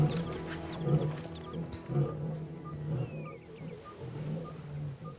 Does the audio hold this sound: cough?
no